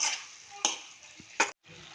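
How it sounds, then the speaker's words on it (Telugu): Chicken curry with turmeric and salt stirred in a pot, with several scraping strokes and brief sizzling bursts close by and a short pause near the end. "పసుపు ఉప్పు వేసిన తర్వాత బాగా కలుపుకొని ఇట్లా మూత పెట్టుకొని కాసేపు మగ్గించుకోవాలండి"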